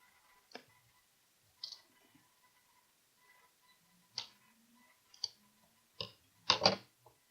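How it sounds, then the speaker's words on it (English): Wires trimmed on a LilyPad light-up masquerade mask, a handful of sharp isolated snips spaced irregularly, close and fairly quiet, the last two coming in quick succession, with no talking. "I'm going to trim my wires"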